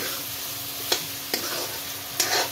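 Masala frying in oil for an Assamese duck curry with pumpkin, a dense continuous sizzle close up, punctuated by three distinct scrapes of the spoon against the pan.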